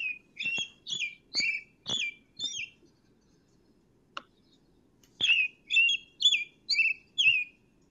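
A bird repeats a clear, high chirping call in two bursts of about five notes each, separated by a brief pause, with little else in the background.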